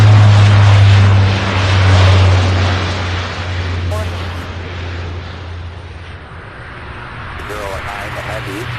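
A Boeing 757 airliner lands at Louisville's SDF airport, its broad jet roar loud at first and then fading to a steady rumble, with faint talk and an airband radio voice in the background.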